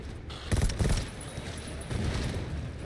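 A video game explosion booms with a dull, heavy burst during a zombie horde fight, a second rumble follows, and both sit over a steady wash of game noise.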